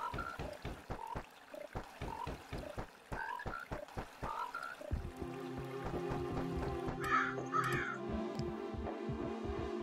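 Crow caws from the Melon Journey video game, a run of sharp repeated caws in quick bursts, followed by a low droning, throbbing backdrop with a few later squawks; no speech.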